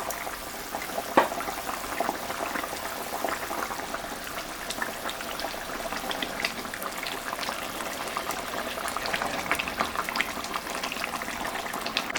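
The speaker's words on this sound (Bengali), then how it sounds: "5 মিনিট ফুটুক, তারপরে মাছটা দেব।" Mustard-poppy gravy bubbling in a covered pan, a dense, even simmering crackle and bubbling at moderate distance, steady throughout with no voices.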